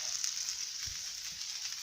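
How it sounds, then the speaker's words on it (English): Steady, crackling sizzle of burgers frying in a pan at a woodland camp, a continuous hiss with faint pops, close and unbroken, no voices. "So cooking them in a frying pan"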